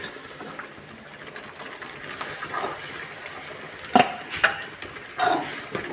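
Hot dal poured into a sizzling spice tempering for Rajasthani dal and stirred, a steady soft frying hiss broken by a few sharp splashes and scrapes near the end.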